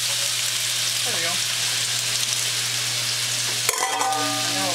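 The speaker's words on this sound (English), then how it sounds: "stir fry your vegetables. Just saute them." Vegetables stir-fry in a pan for potato-chestnut soup with a continuous close sizzle, a brief stir early on and a louder clatter of a utensil against the pan toward the end, all over a low steady hum.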